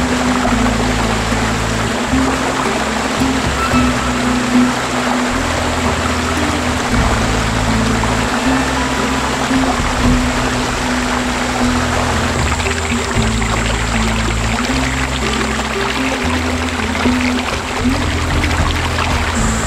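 Creek water flows and trickles steadily over rocks in the early morning, a continuous, fairly loud close rush of water with no voices.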